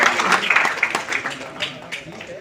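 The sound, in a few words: audience applause for a small child at an award ceremony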